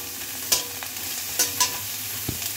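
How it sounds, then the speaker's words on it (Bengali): Eggplant pieces fry in oil with a steady low sizzle, while a utensil scrapes and stirs in a few sharp clatters near the start and middle of the pan. "এবার বেগুনগুলো ভেজে নেব"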